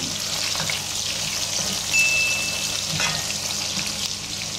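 Pork intestine sizzles and crackles steadily in a hot pan, with a few soft scrapes as it is stirred around, close and fairly loud with no talking.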